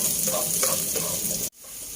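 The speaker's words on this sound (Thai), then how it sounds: "เราไม่ได้เจียวให้เหลืองกรอบนะคะแต่จะเจียวเอาน้ำมันนะคะ จากตัวหอมแดงนะคะ" Sliced shallots fry gently in oil to flavour it without browning, making a dense steady sizzle that cuts out sharply near the end and then creeps back more quietly.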